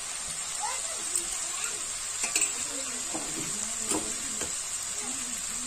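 Potatoes and okra fry in spiced oil for masala bhindi, a steady, faint sizzle with occasional soft stirring clicks, close by, with quiet talk running over it.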